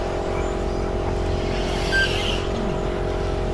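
A Schumacher Cat L1R 4wd electric RC car races laps at a club meeting, giving a steady high whine with a constant background drone and no clear passes.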